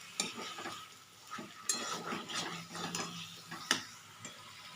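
Chicken and spices for chicken korma are stirred in a pan over a high gas flame, with a quiet background sizzle broken by repeated scraping and clinking strokes of the spoon.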